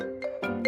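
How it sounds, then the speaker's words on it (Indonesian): A phone ringtone from the video game Sakura School Simulator plays a short, bright melodic phrase of a few synthetic tones, clear and close with no talk over it. "Kak, ada telepon."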